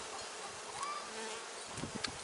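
Honey bees buzzing close by at a hive, a steady droning hum with individual insects whizzing past, fairly faint and without any talking.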